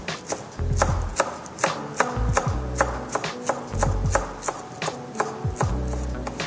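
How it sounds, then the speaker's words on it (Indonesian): Celery stalks thinly sliced with a knife on a cutting board, a fast steady run of crisp close chops in short bursts, with no voice. "Ini aku akan ambil bagian batangnya. Kemudian aku akan iris tipis halus."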